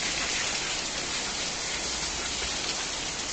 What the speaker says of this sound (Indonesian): Hujan nih guys.